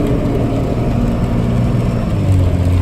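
A car engine pulls steadily in second gear after an upshift while climbing uphill out of a scrap yard, a low, even drone close up with a slight rise in pitch near the end and no speech.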